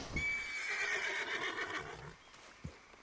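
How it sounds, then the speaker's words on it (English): A horse in the Red Dead Redemption 2 video game gives one loud, drawn-out whinny that rises and falls over about two seconds, with a few soft hoof clops near the end and no talking. "¡Ay, mira mi caballo!"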